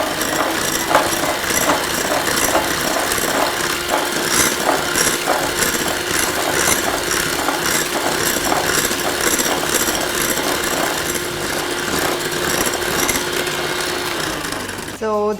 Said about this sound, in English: the beauty of this hand mixer is that it has 5 speeds, so I can actually control the speed with which I'm going to be beating this